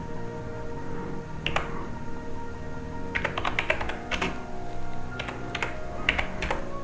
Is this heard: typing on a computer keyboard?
yes